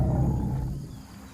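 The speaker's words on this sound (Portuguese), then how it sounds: "Nossa fêmea responde com seu próprio rugido de baixa frequência." Low-pitched rumbling roar of a female dinosaur answering a mating call, a single sustained deep growl that slowly fades, heard alone.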